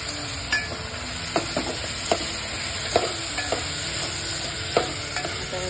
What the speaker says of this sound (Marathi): मी सर्व त्याच्यात टाकणार आहे, फोडणीमध्ये टाकणार आहे.